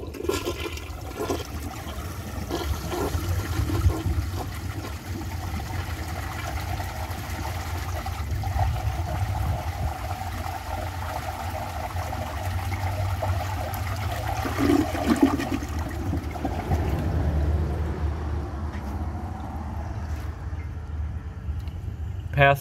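A 1972 Kohler Wellworth toilet flushes a washcloth, a long, steady rush and gurgle of water that drains slowly and tapers into trickling refill, loud and close throughout.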